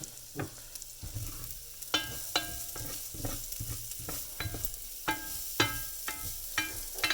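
Rice toasting with bacon and garlic in a pan, with a soft steady sizzle broken by repeated scraping and stirring strokes of a utensil, close and fairly regular.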